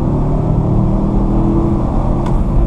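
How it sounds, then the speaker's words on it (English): Mansory Porsche Cayenne Turbo in sport mode giving a steady, loud, deep engine rumble from inside the cabin, with a brief higher whir near the end. "You can punch it down here, do some downshifting, give it some gas."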